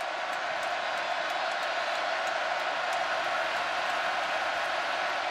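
Steady roar of a football stadium crowd as fans get loud behind the Aggie defense, a dense, constant wash of noise with no breaks.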